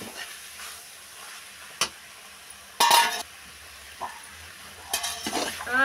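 Broad beans and tomato curry fry in a pan, a soft continuous sizzle broken by several short scraping stirs and clinks of a utensil against the pan, close and fairly quiet.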